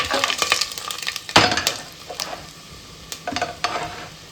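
Spices and onion frying in hot oil for a vegetable pulao, with several sharp clattering stirs and crackling bursts over a steady, moderate sizzle.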